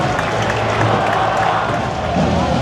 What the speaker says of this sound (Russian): футболисты получают аплодисменты от болельщиков